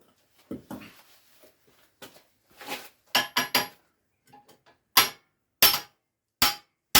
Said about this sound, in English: lump it with a hammer